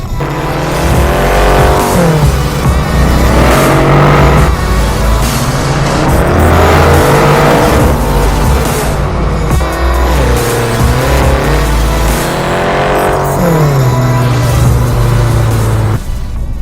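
A 2014 Mercedes-Benz E63 AMG S engine accelerates hard, loud and close, its roaring note climbing repeatedly through the revs with brief dips at gear shifts, no voices over it.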